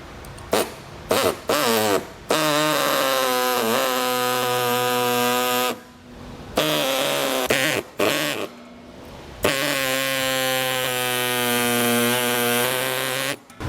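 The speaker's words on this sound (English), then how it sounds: "We're just going to use a small reciprocating blade here to do this." A reciprocating saw with a small blade cuts plastic fascia along the beams of a 2020 Chevrolet Sonic during a base plate install. The loud, close buzzing comes in long bursts with short stops and restarts.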